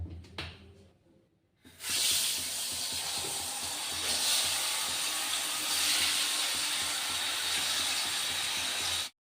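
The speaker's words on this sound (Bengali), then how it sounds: "এই দেখো বেগুনটা ভাজতে দিয়েছি" Eggplant frying in a pan of hot oil in a home kitchen: after a short quiet start, a loud, steady sizzling hiss sets in and carries on for about seven seconds.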